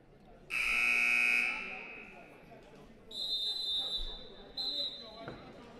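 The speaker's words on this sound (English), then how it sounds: "the buzzer sounds to resume play" Electronic buzzer in a school basketball gym signalling the restart of play after a timeout, one long loud blast followed by two shorter, higher tones, with faint voices and a ball bounce in the background.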